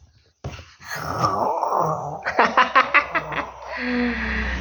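A child imitates snoring with a voice, making a run of rhythmic rasping, groaning breaths up close, followed by a steady low drone.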